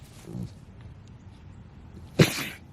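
A single sharp sneeze near the end, close and loud after a quiet stretch with a faint soft noise at the start.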